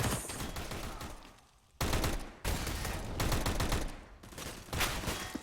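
Rapid gunfire trades back and forth in a Counter-Strike match on de_cache, dense bursts of automatic and pistol shots cutting in and out with brief quiet gaps between volleys, loud and close.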